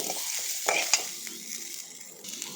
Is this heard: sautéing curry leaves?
yes